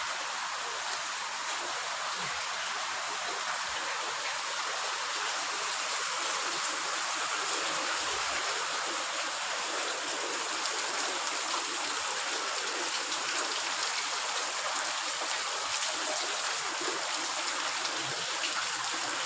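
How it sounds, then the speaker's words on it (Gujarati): Heavy rain falls steadily with running water, a constant close hiss and rush that stays even and loud throughout with no break. "વરસાદ ફૂલ ચાલુ થઈ ગયો છે."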